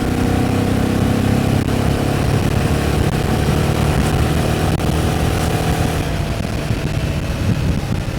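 Royal Enfield Himalayan 450 motorcycle engine pulling in sixth gear, a steady loud drone with continuous low rumble and rising tone, heard alone without talk for the full stretch.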